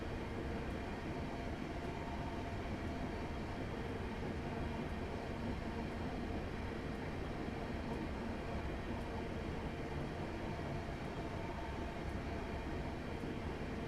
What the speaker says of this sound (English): once we reach 25 miles per hour, I'm once again going to idle the power and just allow the train to coast.